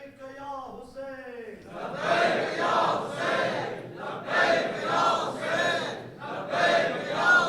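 A large crowd at an Islamic religious gathering chants slogans in loud, rhythmic bursts, several repeated waves following a brief spoken lead-in at the start.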